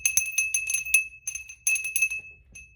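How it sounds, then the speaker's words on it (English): A small bell is rung in a quiet room, producing a series of bright, tinkling strikes in quick clusters with a sustained ringing tone between them, close and clear with no talking. "so let's ring the bell"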